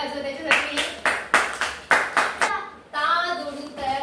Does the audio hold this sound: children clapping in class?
yes